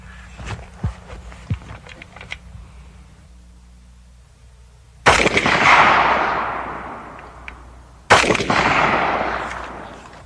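Two loud rifle shots of 7.62x39 rounds from a Valmet, a civilian AK-47, fired outdoors about three seconds apart, each a sharp crack with a long rolling echo, preceded by faint clicks and handling noise.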